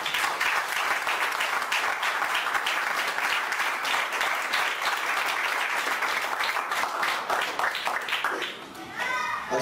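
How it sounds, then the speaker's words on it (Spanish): Church congregation applauding during a sermon, dense sustained clapping filling the room from start to finish with children's voices mixed in, thinning slightly near the end. "Aplaude al Señor."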